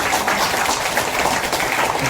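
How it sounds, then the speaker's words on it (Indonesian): Steady applause from a crowd at a healing prayer gathering, dense and continuous hand clapping at a consistent loudness throughout. "Tepuk tangan yang luar biasa."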